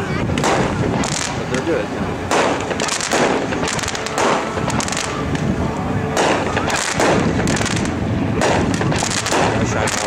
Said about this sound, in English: This is a very old cake, 20 shots, red, white, and blue, Land of the Free.